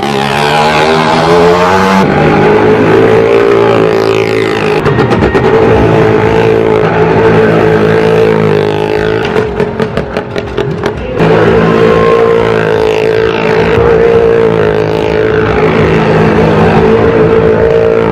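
Stunt bikes and cars perform at a show at the Pushkar fair in Rajasthan, with engines droning and revving loudly and continuously, pitch shifting as vehicles circle near, with crowd noise beneath.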